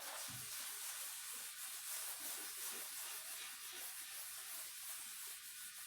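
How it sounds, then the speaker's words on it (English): A spray bottle mists water onto a wooden workbench table in a workshop, a faint continuous airy hiss lasting several seconds with no voices. "I am spraying water on my table"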